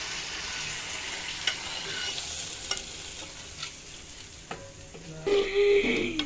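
An onion tempering (bagar) poured into cooked vegetables sizzles steadily on the stove, with soft clicks of stirring throughout and a louder burst of frying near the end; no one speaks.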